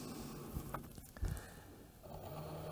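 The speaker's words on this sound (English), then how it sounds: "the machine's going to go through its pre-feed cycle" A Cricut cutting machine runs its pre-feed cycle to load material, giving off soft mechanical whirring and a brief thump or scrape partway through, close and fairly quiet.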